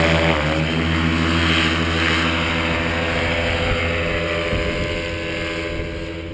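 A paramotor engine held at full throttle for takeoff at a flight school on an airfield, a loud continuous buzzing propeller drone that stays steady and then eases slightly as it moves off.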